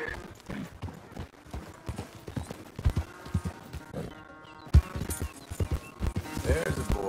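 Horse hooves clip-clopping in Red Dead Redemption 2, irregular close hoofbeats on hard ground mixed with snorts and a neigh, while game characters talk and background music plays.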